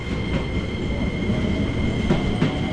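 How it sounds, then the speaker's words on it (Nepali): A train pulls away from a station in Tokyo, a loud close rumble of wheels on rails with a steady tonal hum and occasional clacks and squeals, no talking. "ट्रेन गयो अब"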